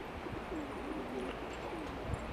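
Young black-marked (kara nakışlı) pigeon cooing softly in a low, rolling murmur, faint beneath steady background noise.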